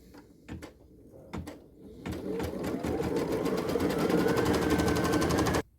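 Sewing machine stitching plush fabric with elastic: a few separate clicks and short bursts, then a steady accelerating motor whir with rapid needle ticking that stops abruptly, close and fairly loud.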